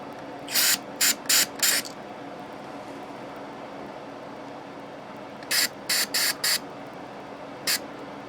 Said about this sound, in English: I'm just going to spray a little bit of the goodness in the pot here